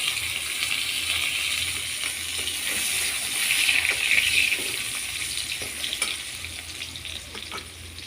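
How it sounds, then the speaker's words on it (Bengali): Potato pieces frying in mustard oil in a wok, a steady soft sizzle with faint scraping and clinks, heard alone and fairly quiet. "আলুটা আমি এইভাবে লাল লাল করে ভেজে নিয়েছি"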